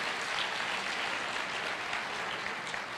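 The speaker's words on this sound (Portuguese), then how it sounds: "você que é homem, aplauda ao Senhor pela vida dessas mulheres" Steady, dense applause fills a church congregation at a family conference, the men clapping for the women in a continuous even roar with no break from start to finish.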